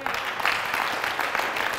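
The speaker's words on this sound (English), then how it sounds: "Let's clap to the Lord." A church congregation claps together in a dense, steady burst of rhythmic hand claps, loud and close, lasting under two seconds.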